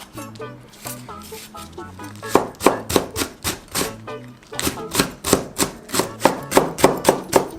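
A kitchen knife cuts chili peppers crosswise on a board in quick, evenly spaced thuds that start softly and then settle into a firm, steady chopping rhythm close by.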